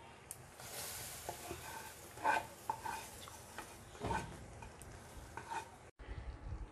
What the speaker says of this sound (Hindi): अब इसको निहारी में मिक्स कर देंगे